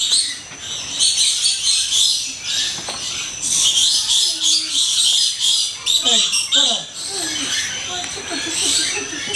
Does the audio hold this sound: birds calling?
yes